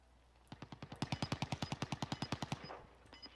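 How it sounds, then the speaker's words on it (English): Rapid automatic gunfire in a battle royale video game, a fast burst of about twenty evenly spaced sharp shots that stops abruptly, followed by a few fainter reports. "There's definitely shooting straight up this hill"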